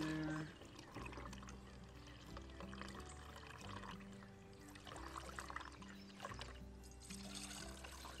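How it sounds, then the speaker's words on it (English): Lactic acid bacteria liquid made from fermented rice wash water being poured into a container, a quiet close trickle and splash of liquid running for several seconds. "pour a little bit in there."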